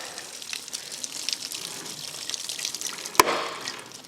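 Water gushes steadily from a valve on a ram pump tank, a continuous broadband splashing flow heard close and alone, with one sharp click partway through.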